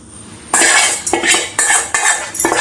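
A spoon clanks and scrapes repeatedly against a pan while masala is mixed into potato patty filling, a series of sharp metallic strokes in quick rhythm, close and loud, no talk.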